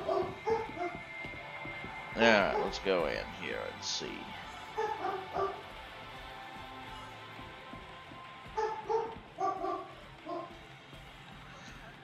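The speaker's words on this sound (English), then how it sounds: "And my dogs are going crazy." Several pet dogs barking, yipping and whimpering indoors in bursts of excited yelps and whines, with someone talking in between.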